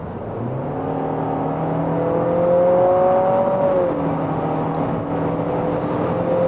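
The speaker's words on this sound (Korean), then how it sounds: "스포츠 모드 기준으로 알티마의 가속 성능도 한번 테스트를 해보도록 하겠습니다" A 2019 Nissan Altima 2.0 turbo accelerates hard in sport mode. The engine tone climbs steadily, drops at a gear change and climbs again, a loud and continuous interior drone with no talking.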